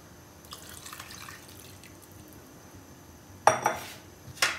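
Water splashes and clinks in a metal pan on a stove while dal cooks, two brief sharp bursts after a quiet stretch with faint dripping.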